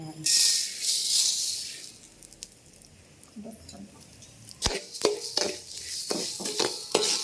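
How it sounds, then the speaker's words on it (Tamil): Black urad dal, 450 grams, roasted in a pan: a soft hiss and rustle first, then sharp, repeated scraping clatters of a spoon stirring the lentils against the pan, close and uneven. "450 கிராம் உளுந்து, கருப்பு உளுந்து. இப்போ சேர்த்து சட்டியில் போட்டு வறுக்க போகிறோம்"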